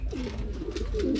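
Pigeons coo in low, soft, repeated murmurs at a Filipino pigeon loft, steady and close against a constant background hum, with no voices.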